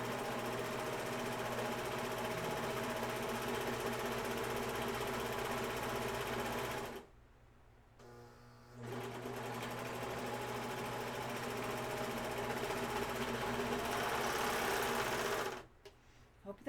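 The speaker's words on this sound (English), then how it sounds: "Hope that noise don't bother anybody. I feel bad for the people that gets bothered with noises. Now, see, I just serged the edge, serged it." Serger sewing machine overlocking the edge of a towel, a loud continuous close motor drone running for several seconds, stopping briefly, then droning again before cutting off at the end.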